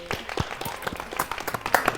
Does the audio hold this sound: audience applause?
yes